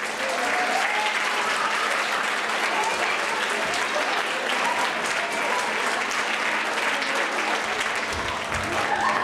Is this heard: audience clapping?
yes